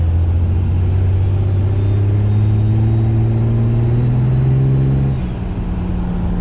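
A white dually pickup truck accelerates along a road, its engine a loud, steady low drone with rising harmonics that eases off and settles lower near the end.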